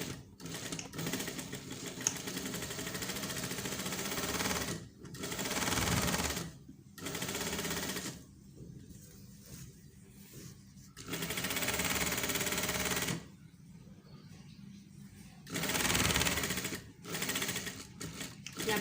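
An electric sewing machine stitches a shirt seam, running in several bursts of fast, even, whirring stitches broken by short pauses, loud and close.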